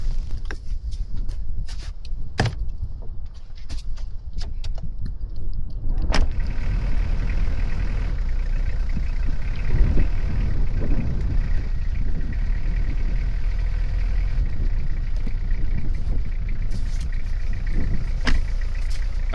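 Van engine cranking and catching in a snowy blizzard, after a few clicks and clunks, then settling into a steady loud idle rumble that runs on, close by with no speech.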